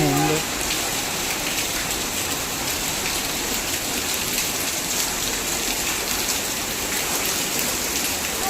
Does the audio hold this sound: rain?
yes